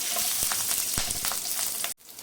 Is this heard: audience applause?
no